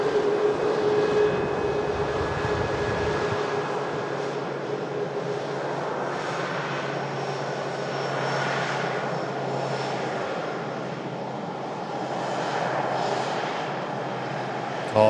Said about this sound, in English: Royal Jordanian Dreamliner on the way in.